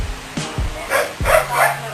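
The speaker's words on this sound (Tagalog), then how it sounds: "Ayan, aso." A dog barks a few times in quick, sharp bursts, close by, with some yips between barks.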